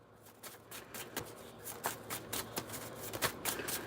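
Tarot cards are shuffled in a steady, dense riffling patter of soft slaps and flutters, close by and continuous, with no talking.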